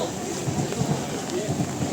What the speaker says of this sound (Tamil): மழை லைட்டாக விடுற மாதிரி இருக்குது